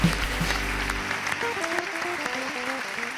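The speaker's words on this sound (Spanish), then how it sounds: "un fuerte aplauso para Jorge Puello" An audience applauds comedian Jorge Puello at a live stand-up comedy night, a steady moderate wash of clapping that runs under a brief musical sting with a low bass note at the start.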